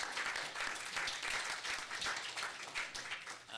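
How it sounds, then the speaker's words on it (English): Audience at a Turlock city council regular meeting giving a round of applause, steady clapping for a few seconds, moderately faint and slightly distant, fading toward the end. "Give her a round of applause."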